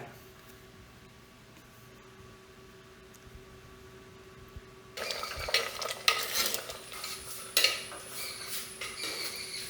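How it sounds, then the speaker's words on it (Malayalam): Jaggery is stirred in a pan to dissolve it for puliyinji, a quiet hum at first, then scraping and clinking of a spoon against the metal pan becoming louder and continuous, close by. "അതും നല്ലപോലെ ഇളക്കി അലിയിച്ചെടുക്കാം"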